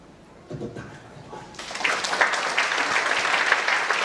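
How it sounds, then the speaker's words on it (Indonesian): Church congregation applause during a sermon, starting faint and building after a moment into sustained, dense clapping from a large crowd. "Tepuk tangan."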